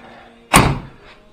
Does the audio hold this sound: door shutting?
yes